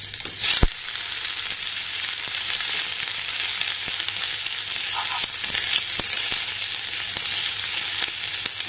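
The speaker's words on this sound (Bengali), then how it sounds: "আদাটা অল্প ভাজা ভাজা হয়ে গেলে" Ginger sizzles in hot oil in a wok, a steady close crackling fry lasting throughout, with a sharp clink near the start and faint occasional stirring.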